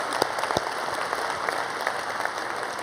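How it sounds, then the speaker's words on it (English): Audience applause fills a summit hall, steady and sustained with a dense patter of many hands, moderately loud and heard alone without talk. "I'd like to give him a huge welcome and applause for that"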